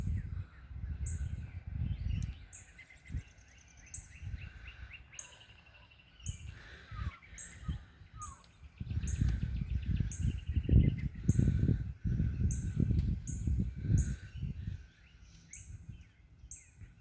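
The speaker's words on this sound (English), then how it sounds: "These birds sure are going to drive people's cats nuts." Birds sing and call in a repeating series of short, sharp chirps, with bursts of caw-like calls and a cricket-like trill, over fluctuating low rumbling noise; outdoors, moderately near and without talk.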